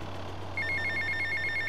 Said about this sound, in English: Oh, I got to answer this phone first.